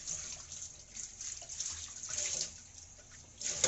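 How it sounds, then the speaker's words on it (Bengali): Water running from a tap while dishes are being washed, a steady hiss of flowing water with faint clinks and splashes, rising a little near the end, with no voices. "আমি থালা বাসন এগুলো ধুয়ে নিই,"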